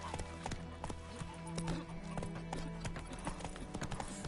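Rapid clip-clop of galloping hooves in The Witcher 3 video game, steady and close, with a whinny and game music underneath.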